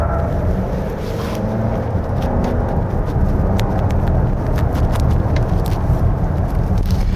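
A 2025 Volvo XC60 B6 AWD accelerates at full throttle on a winding mountain road, a steady, loud low rumble of engine and road noise heard from inside the cabin, rising slightly as it pulls.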